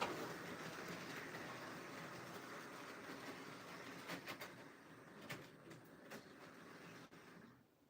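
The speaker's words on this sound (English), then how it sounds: "it is a pretty good locomotive." A model locomotive runs steadily with a continuous mechanical whir and hum, moderately close, accompanied by a few brief clicks and knocks near the end, with no talking.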